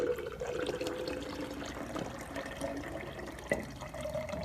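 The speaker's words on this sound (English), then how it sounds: "pour the first jar into the second jar" Water pours and splashes from one container into another, a soft continuous trickle with a few small glugs and clinks.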